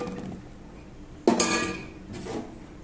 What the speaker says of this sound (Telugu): అందుకని ఇప్పుడు ఈ మునక్కాయలు ఆ బాయిల్ అయిన సగం ఉడికిన పప్పులో వేసుకుంటున్నాం.